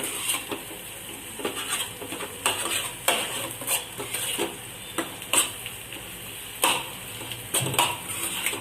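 Egg stirred in a pan for fried rice: close, sharp scrapes and clinks of a utensil against the pan in an irregular rhythm over a steady sizzle, with no talking.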